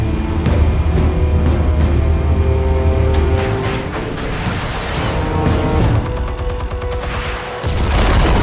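Explosives detonate in Batman: The Telltale Series, a dense run of booms and sharp cracks that rumble continuously, with heavy low-end blasts and crackling debris throughout.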